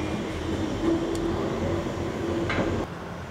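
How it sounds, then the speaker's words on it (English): Train rumbling past fairly close in a quiet German town on a Sunday, a steady low drone with a faint hum that swells briefly before dropping away near the end; no talking. "It's just like train sounds, people throwing recycling away."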